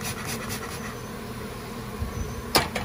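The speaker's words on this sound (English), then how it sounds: "We'll run the bees out of it." Honey bees buzz around a piece of comb that has been cut out during a bee removal, a faint, steady drone with a brief scratchy knock near the end.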